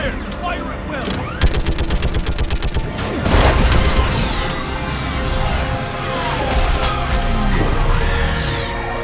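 Weapons fire in the Mass Effect 3 video game, loud rapid automatic bursts and repeated booms filling the whole stretch, with a heavy impact in the middle and voices under the din.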